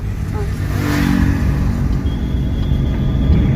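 Car engine idling and pulling as the clutch is slowly let out on an uphill road, a steady low rumble that swells slightly, with faint voices in the background.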